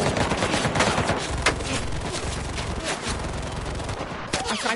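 Rapid bursts of gunfire from the video game Cuisine Royale crackle in dense, overlapping volleys with sharper single shots mixed in, loud and continuous throughout.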